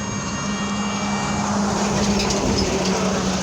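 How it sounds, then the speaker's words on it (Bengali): Continuous loud roar of heavy, overloaded trucks and motorbikes passing close on the Berhampur bypass road, a steady rushing traffic noise with engine drone and no pause. "বড় গাড়ি যখন যাচ্ছে না রীতিমতো ভাইব্রেট হচ্ছে"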